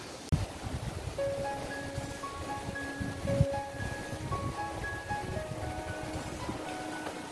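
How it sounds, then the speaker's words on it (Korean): Gusty wind blows outdoors on Jeju Island, a rough rumbling rush with buffeting and some rustle, moderately loud and continuous, while faint tonal sounds come and go in the background, with no talk. "제주도는 바람 많이 부네요."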